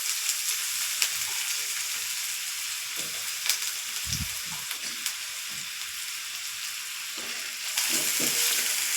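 Onions and garlic frying in two tablespoons of oil, a continuous loud close sizzle with a few soft stirring knocks and scrapes against the pan.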